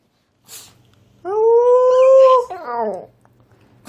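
A dog lets out a drawn-out howl, rising then wavering, followed by a shorter broken howl trailing off; close and fairly loud with no talking.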